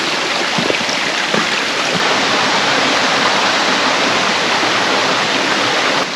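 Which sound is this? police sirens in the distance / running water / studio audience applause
running water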